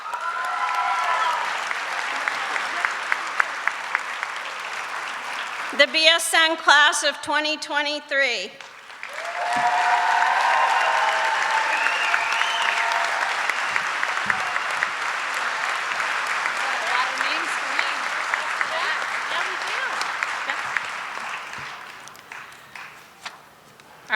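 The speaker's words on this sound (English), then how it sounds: "We've applauded you and applauded you" Audience applause breaks out at a nursing graduate pinning ceremony for a BSN class, swelling loud and broad after an announcer speaks, then continuing as sustained clapping for most of the moment before fading near the end.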